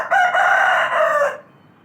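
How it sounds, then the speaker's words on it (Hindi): A rooster crows loudly and close in the morning, one sustained cock-a-doodle-doo of about a second and a half that cuts off and leaves quiet air. "और यहाँ से आती है मुर्गों की अजान।"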